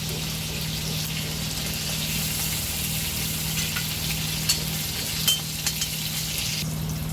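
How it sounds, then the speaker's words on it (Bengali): Prawns frying lightly in oil, a steady close sizzle with a low hum beneath and a few faint clinks toward the end. "চিংড়ি মাছটা হালকা করে ভেজে নিয়েছি"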